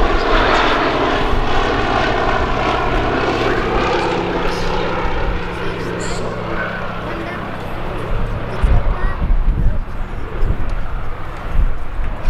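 A Fairey Swordfish biplane flies past at an air show, its piston engine and propeller droning loudly at first, then fading and thinning as it moves away, with people talking over it.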